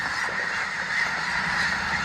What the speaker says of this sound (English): I think there's geese and ducks